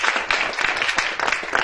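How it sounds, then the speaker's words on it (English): Brief burst of audience applause at a meeting on fibromyalgia and chronic pain, a short stretch of scattered clapping that swells and dips, fairly close and loud. "Please join me in applause for"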